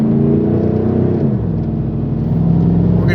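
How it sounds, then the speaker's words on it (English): A lifted 2008 Chevy Silverado 1500 pickup with a 5.3 L engine and two-wheel drive gives off a loud, steady mechanical drone. Its pitch drops and settles about halfway through, heard close with no voices. "this truck's making a funny noise"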